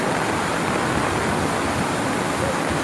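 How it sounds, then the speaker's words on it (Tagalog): Loud, steady rush of floodwater gushing, a dense continuous roar with no pauses, close at hand. "sobrang lakas nung nanggaling sa may St. James na tubig papalabas dito sa nawarak na riprap"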